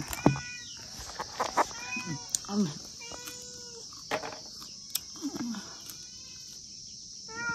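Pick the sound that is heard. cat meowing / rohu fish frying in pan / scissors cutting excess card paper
cat meowing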